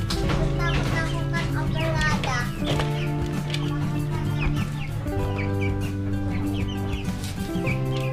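Chickens cluck and squawk continuously close by, a busy overlapping chorus of fowl with no pauses.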